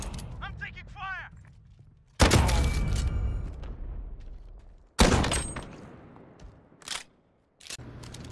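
Gunfire in the video game Modern Warfare: two loud, sudden bursts of rapid shots. Each one rings out close and then fades, with a short sharp crack near the end. A voice is briefly heard at the start.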